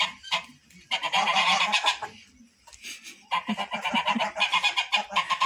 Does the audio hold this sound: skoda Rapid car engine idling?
no